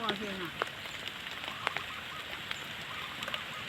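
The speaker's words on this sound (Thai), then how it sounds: "ฝนตกใส่ค่ะ" Rain falling outdoors in a garden onto a homemade fruit fly trap, a steady patter with scattered sharper drops, fairly quiet and continuous.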